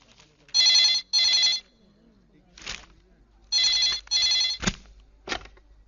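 An old-style telephone bell rings in two short double bursts, loud and near, with brief voices and a sharp knock between the rings.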